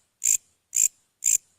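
Three identical chopper-type animal calls, short bright buzzy pulses evenly spaced about half a second apart, crisp and alone against silence.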